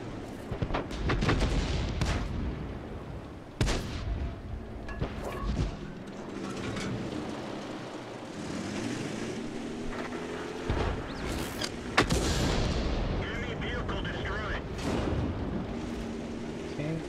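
Tank gunfire in World of Tanks, with several heavy booming shots spaced out over a rumbling battlefield background while a commentator talks throughout.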